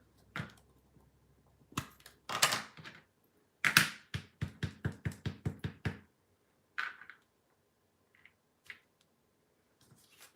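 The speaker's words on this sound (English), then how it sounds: "we're going to stamp on that basic white" A rubber stamp presses a greeting onto basic white cardstock, positioned with a Stamparatus grid. A few dull knocks come first, then a quick close run of about a dozen crisp taps, then scattered soft clicks, with no talking.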